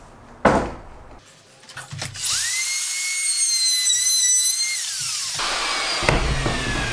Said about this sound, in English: It's a router with a little curved, rounded bit on it.